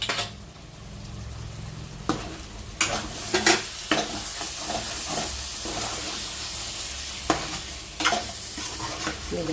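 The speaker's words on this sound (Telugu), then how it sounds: "మసాలా నీళ్ళు అయితే వేసుకొని ఉడికించుకుందాం కూర అయితే" Chicken gravy cooking in a pan after masala water is poured in, a steady close sizzle and bubbling hiss broken by several scraping stirs of a spoon against the pan.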